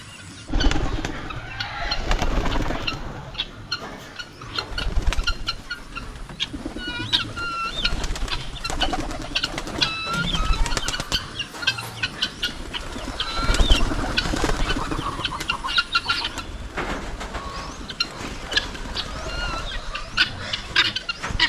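Released pigeons coo repeatedly and beat their wings in bursts close by, with a car passing faintly in the background.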